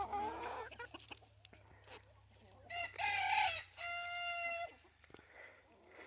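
A rooster crows nearby, a loud drawn-out call repeated twice, following some softer clucking and chicken noises.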